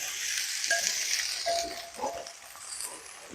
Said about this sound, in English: And now I'm going to go ahead and throw in the potatoes.